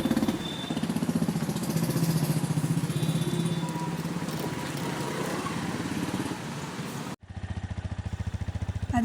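A motorcycle engine runs with a rapid, chugging idle, close and steady for several seconds, then cuts out abruptly and catches again with a sharper, pulsing putter.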